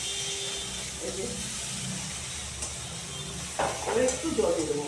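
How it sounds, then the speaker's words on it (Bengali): Sliced banana frying in a pan, a steady hiss and sizzle close by throughout, with a brief burst of utensil stirring and scraping near the end, and a voice speaking partway through. "এই কলাটা আমার ভাজা ভাজা হয়ে গেছে এখন।"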